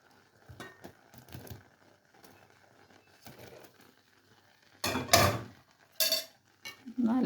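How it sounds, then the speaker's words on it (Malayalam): Metal spoon stirring chicken into a pot of Japanese curry, with scattered clinks and scrapes against the pot and a louder burst of clattering stirs near the end. "നല്ലതുപോലെ ഒന്ന് മിക്സ് ചെയ്ത് കൊടുക്കുക"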